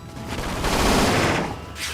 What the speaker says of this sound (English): Topple him with gunfire.